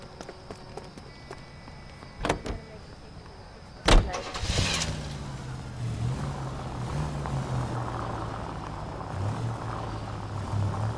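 Car driving in the video game L.A. Noire: a couple of door or impact clunks, then a steady low engine hum with shifting tones as it pulls away, moderately loud, no talk.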